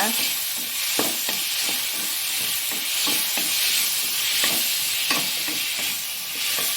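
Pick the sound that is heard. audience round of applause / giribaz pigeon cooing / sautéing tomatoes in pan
sautéing tomatoes in pan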